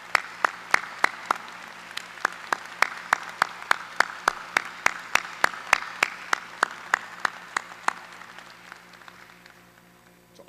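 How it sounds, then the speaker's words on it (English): A commencement audience at Hofstra University gives a round of applause for a former teacher: a steady run of sharp, evenly spaced claps close by, with a faint crowd wash behind them, fading gently toward the end. "I ask you to give him a round of applause if he could stand."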